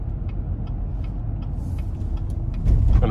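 A 2020 Chevy Suburban Premier RST with its 6.2L V8 pulls hard at full throttle, a deep steady engine rumble heard from inside the cabin that swells louder near the end.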